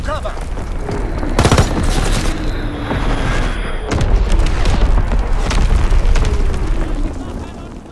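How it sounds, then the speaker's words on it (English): Artillery shells and bombs explode in Call of Duty WWII on the London Docks map, with heavy booms and rumbling blasts rolling continuously alongside scattered gunfire and a radio-style announcer voice. "Incoming enemy artillery. Get to cover. Enemy bomb incoming."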